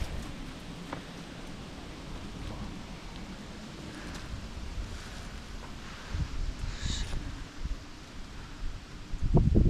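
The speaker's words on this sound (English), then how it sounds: "It's very windy." Gusty wind buffets the microphone with a low, continuous roar that swells near the end, with faint rustling underneath.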